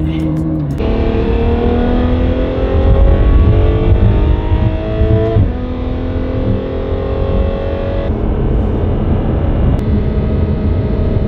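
A Ferrari F12 with a newly installed loud exhaust revs up hard and close, the engine note climbing and falling through several throttle blips with a raspy, distorted edge.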